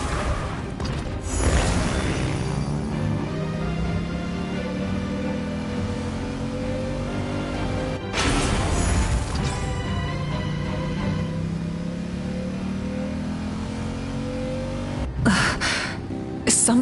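A car engine in Genshin Impact roars at full throttle, rising in pitch through long revving sweeps, with bursts of whooshing gear changes around two, eight and fifteen seconds; loud and close, no voices.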